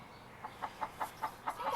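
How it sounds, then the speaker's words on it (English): A Buff Orpington and Rhode Island Red cross hen clucks in a quick, evenly spaced series of about six short notes, close and fairly clear over a quiet background. "Sam is Buff-Orpington, Rhode Island Red Cross. They're good setters. They are fairly good layers"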